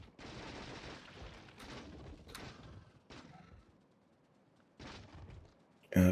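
Personal defensive turrets in a video game firing in steady rattling bursts, several clusters of rapid shots separated by short pauses, moderately loud, ending with a sudden louder thump.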